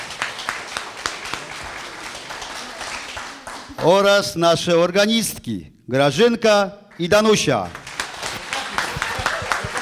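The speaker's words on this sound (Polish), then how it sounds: "Brawa, brawa." A village Women's Day celebration in Samolub, 2012: a crowd applauds, then an announcer speaks over a lull, and the clapping swells again at the end.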